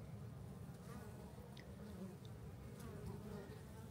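Bees buzzing steadily around a hive in spring, many carrying yellow dandelion pollen, a constant low drone close by with no talk.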